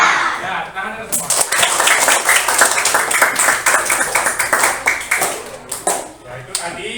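A classroom of children claps a rhythmic PPK hand-clapping chant, sharp claps in a patterned sequence with group voices chanting along, loud and close.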